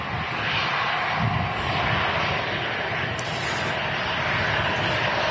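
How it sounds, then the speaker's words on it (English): Boeing 737 MAX with LEAP-1B engines taking off at Manchester Airport, a loud, steady broadband jet roar that holds constant throughout with no talking. "Yeah, the Max engines are pretty strong,"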